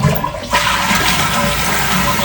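Water rushes loudly from a toilet flush, a close, continuous gushing that starts abruptly and carries on steadily after the lift chain has been adjusted.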